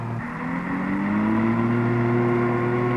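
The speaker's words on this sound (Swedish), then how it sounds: "En av prototypvagnarna går här igenom ett av de otaliga praktiska körproven på Scania Vabis egen terrängbana" A Scania Vabis Ltgb 957 prototype terrain truck drives on a test track, its engine droning loudly and steadily with rising whining gear tones as it pulls along, no talking.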